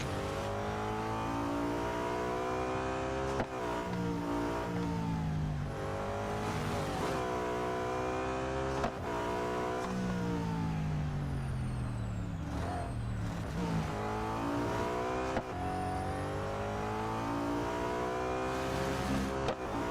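Race car engine in the Real Racing 3 mobile game revving loud and continuous, pitch climbing and dropping repeatedly through gear changes and corners, with no voices over it.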